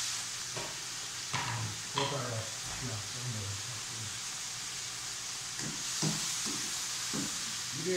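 Pickled cabbage stir-fried in vegetable oil gives a steady hissing sizzle beneath intermittent scraping and clattering spatula strokes, close by, with a person talking over part of it.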